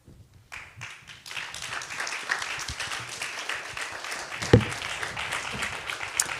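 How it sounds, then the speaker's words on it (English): An audience at a wrongful conviction summit breaks into applause after a brief quiet start, many hands clapping in a full, sustained roar that swells and holds, with one sharp louder clap near the end. "Yes, let's give them another round of applause."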